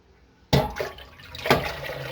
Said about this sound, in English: So I will give it a good shaking up in the jug.